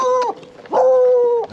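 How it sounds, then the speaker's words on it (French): A dog that charges at a rider on an electric unicycle along a bumpy country trail lets out two drawn-out, whining, howl-like cries close by, with a short gap between them. "Oh, il y a le chien, il t'attaque,"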